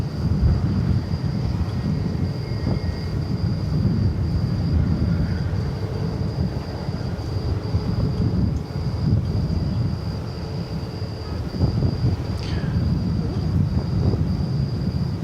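A British Airways Airbus A380 airliner at DFW Airport, heard at night as a steady distant roar of jet engines and rumble carried on wind-buffeted air, with a faint high tone running throughout.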